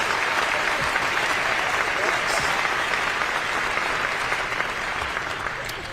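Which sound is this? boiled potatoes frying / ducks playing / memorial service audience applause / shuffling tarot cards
memorial service audience applause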